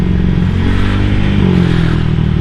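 A motorcycle fitted with a Seher 63 BRT aftermarket exhaust and remapped ECU revs loudly and steadily close by, with a rough, throbbing low rumble.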